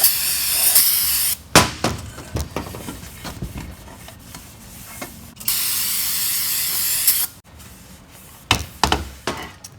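Cleaner is sprayed onto the rear differential cover of a 2014-2018 GM 9.5-inch Silverado or Sierra axle in long hissing bursts with short spurts between them, close and loud, with occasional clunks of handling.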